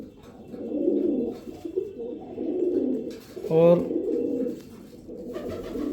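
A short-legged domestic pigeon coos close by in a loft, a brief rolling burst amid soft low murmuring and someone talking over it.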